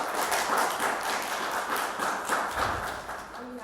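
Audience applause for candidates at the close of a freshman council speakout event, a steady wash of many hands clapping throughout at moderate loudness.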